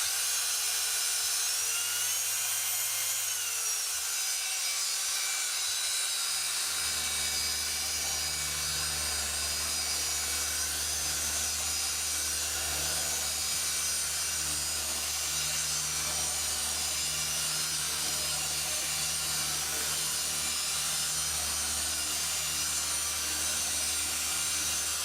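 A Flexisander power sander whirs steadily and continuously for the whole stretch, sanding on a power catamaran build, its pitch shifting briefly near the start, with no talking.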